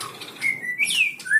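A murai batu, the white-rumped shama, sings a series of clear whistled notes and quick slurred phrases, moderately near and fairly faint, with no talk.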